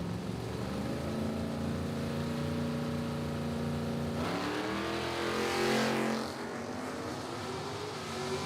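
Camaro and pickup truck launching side by side off the line at a footbrake drag race, a loud sustained engine roar with rising revs and a sharp burst of acceleration midway, no talk over it.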